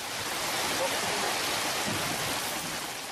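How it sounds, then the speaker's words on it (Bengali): Steady, even hiss of heavy rain falling in Chittagong during Cyclone Komen, with no breaks or distinct drops standing out. "সকাল থেকে চট্টগ্রামে শুরু হয়েছে বৃষ্টি।"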